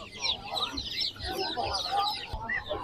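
Roosters and hens clucking and calling at a busy open-air poultry market in Sabunchu, with Brahma chickens for sale; steady overlapping bird calls close by, mixed with nearby chatter.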